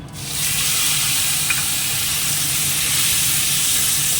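Dried red chilli, a little cumin and onion paste frying in hot oil, giving a loud, steady sizzling hiss that begins almost at once and runs unbroken to the end, with no voices.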